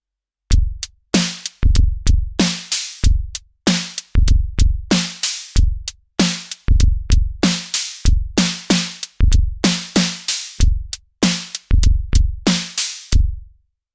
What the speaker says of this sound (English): I'm using an electronic drum kit on a drum track which has the Drumbeam selected as the MIDI input